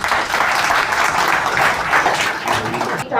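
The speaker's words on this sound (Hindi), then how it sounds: "सबसे पहले नारी शक्ति के लिए एक तालियां जोरदार।" An audience at a national women's empowerment and honour ceremony in India applauds for women's power, a dense, steady wash of many hands clapping close and loud with no talk, cutting off abruptly at the end.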